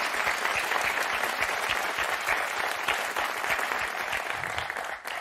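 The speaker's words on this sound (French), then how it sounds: "c'est Tristan et Anaïs Baïdémir, qu'on applaudit." Studio audience on a French TV game show claps loudly and steadily for about five seconds, a dense even wash of applause with no talking over it.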